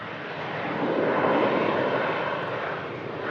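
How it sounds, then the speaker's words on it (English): Ryanair Boeing 737 departing on runway 23 left, a broad steady jet roar that swells to a peak and then eases slightly, heard from a distance across the airfield with no talking. "Ryanair 737. Departing 23 left."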